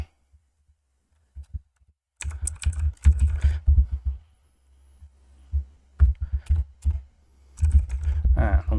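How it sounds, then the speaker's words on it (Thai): Computer keyboard typing comes in short bursts of close, quick key clicks separated by quiet pauses, with a low thumping undertone. "เดี๋ยวพิมพ์ไว้หน่อย"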